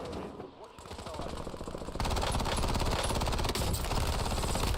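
Rapid automatic gunfire from the Warzone shooter game rattles continuously and loudly, growing denser and more sustained midway through, with faint voices underneath.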